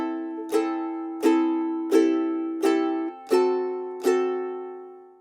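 A ukulele strums six evenly spaced chords of a four-chord line cliché, each ringing out and decaying before the next, close and clear with nothing else underneath.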